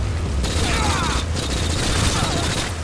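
Rapid gunfire from a P90 submachine gun in the video game Call of Duty: Modern Warfare 3, a dense, continuous burst of loud shots running almost the whole time with mechanical clatter beneath.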